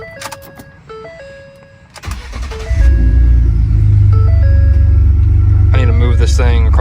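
A pickup work truck with 210,000 miles, used daily, cranks and starts partway through, settling into a loud, steady low rumble. Brief tones and clicks come before it, and a faint voice is heard near the end.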